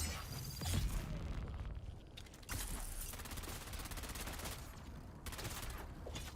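Gunfire in the video game Dune Awakening: rapid automatic bursts with mechanical clicks and reload clatter, fairly quiet and continuous with short breaks.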